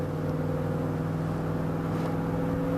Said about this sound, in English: Start with some light throttle upshifts and feel for the 1-2,